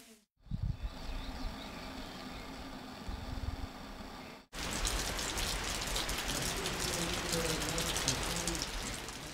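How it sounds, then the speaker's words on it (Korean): Rain falls steadily at a mountain temple, a dense close patter of drops. It cuts out briefly partway through, then resumes even louder and more hissing. "세상의 티끌을 씻어내는 비가 반갑습니다."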